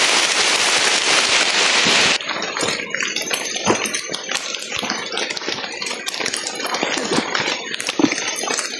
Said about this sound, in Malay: Hujan lah tu.